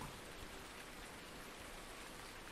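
Steady rain in a farming video game, a soft, even hiss of drops on surfaces with no breaks, faint and continuous with nothing else over it.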